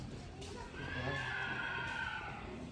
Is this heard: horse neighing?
yes